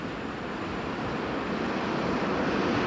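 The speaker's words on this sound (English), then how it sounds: "this is a very lined-up wave, and it's going down along the reef" Ocean surf breaking along a reef in Fiji during a surfing contest, heard as a steady, loud, broadband roar of rushing whitewater with no voices.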